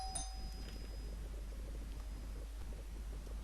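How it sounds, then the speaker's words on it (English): A doorbell rings once near the start, a brief chime that fades quickly over steady background hiss in a quiet room. "someone rang the doorbell"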